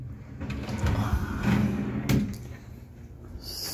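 A slide-out drawer in a mobile detailing trailer slides out and back in on its runners, with soft rolling rumbles and a light thud as it closes nearby.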